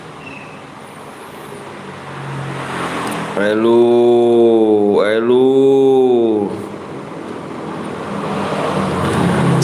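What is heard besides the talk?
motorcycle and traffic noise by the roadside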